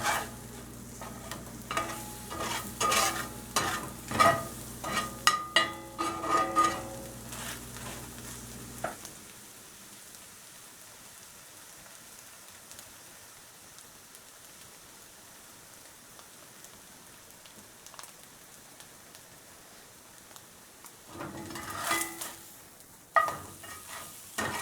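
Eggs cook in a cast iron pan: several seconds of clinks and scraping give way to a soft, steady sizzle, and the scraping returns near the end. No one speaks.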